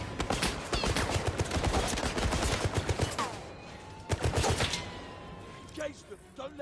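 Gunfire during a final battle in the video game 007 First Light, loud rapid bursts of automatic fire and sharp shots in dense clusters, pausing briefly before more volleys, with faint tones and effects beneath.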